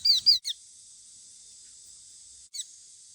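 Rescued baby myna birds give a few sharp, high chirps while being fed, a quick cluster at the start and one more call after a pause, close and clear over a faint background hiss.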